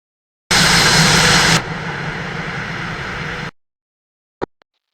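Jet engine afterburners light in a flight simulator game, a loud, close, broadband roar that bursts in at full strength, settles to a steadier rumble, then cuts off abruptly, followed by a couple of brief clicks.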